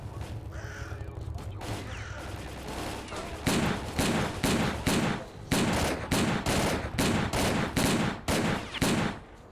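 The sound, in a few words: gunfire from enemies shooting, in video game STALKER: Clear Sky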